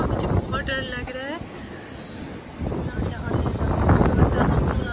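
Strong wind gusting during heavy rainfall in the UAE, a rushing, buffeting roar that swells toward the end, close to the microphone, with a person speaking over it at the start.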